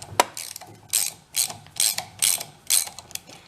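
Ratchet socket wrench with an 8-point socket turning a set screw on a Terramite engine with a thrown rod: about six sharp clicking ratchet bursts in a steady rhythm, close and fairly loud, with no talking.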